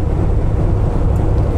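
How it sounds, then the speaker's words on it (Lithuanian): Strong wind buffets the microphone outdoors near a vineyard with mountains in view, a continuous loud low rumble with no pauses and no talking. "Oras geras, tik tai labai vėjas didelis yra."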